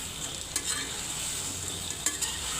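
Small prawns dry-roasting in a pan while being stirred, a steady close sizzle with scraping stir strokes and a few sharper clinks of the utensil against the pan.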